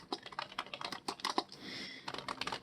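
Keys clatter on a computer keyboard in quick, uneven bursts while text is typed into a PowerPoint 2016 exercise, close and clear with a short pause mid-way and no talking.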